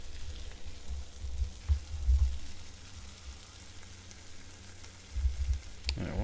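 A hamburger patty fries on a stove in the video game One Armed Cook, giving a steady low sizzle with a few louder crackling swells, then a short sharp clatter at the very end.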